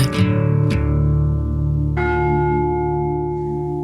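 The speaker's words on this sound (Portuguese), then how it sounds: "o gongo da FLAD chamou-nos" A large gong strikes to open a live podcast recording, with sharp metallic hits near the start and another about two seconds in. Each hit leaves a long, rich shimmering tone that rings on loudly, with no talking.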